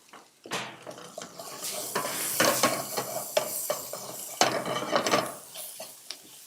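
Spices and freshly grated ginger sizzle in oil in a tagine pan for a lamb tagine, a steady crackling fry broken by sharp clicks and scrapes of stirring, close and fairly loud, with no talking.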